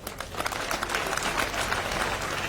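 A crowd of students at Kenyatta University breaks into dense, steady clapping and cheering that fills the whole moment without a pause.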